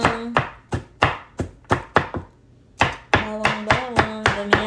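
Knife chopping garlic on a board for home-cooked fried rice: a run of sharp, close, evenly spaced chops, a short pause, then another quicker burst of cuts, with no talking.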